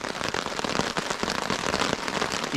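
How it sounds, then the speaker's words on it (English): Heavy rain lashes down in dark woodland at a hammock camp, a steady dense hiss of drops with sharp crackling patters on leaves and surfaces, continuous and close with no talking. "lashing down with rain"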